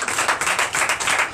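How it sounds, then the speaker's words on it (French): A church congregation at a night deliverance and prophecy service claps in a quick, loud, rhythmic burst of hands, close and continuous for the short stretch. "Donnez l'acclamation à Jésus."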